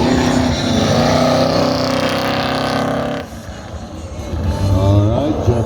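A square body truck with a freshly tuned 383 engine runs an autocross course, a loud roaring engine that revs hard, drops away briefly, then climbs again.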